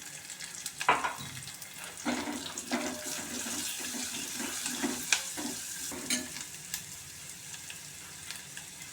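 Food fries in a pan while cooking until golden brown for a jackfruit sambar, giving a steady oily sizzle with occasional louder crackles and stirring scrapes. No one speaks.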